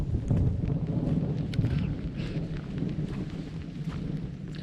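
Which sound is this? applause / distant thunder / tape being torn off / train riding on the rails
distant thunder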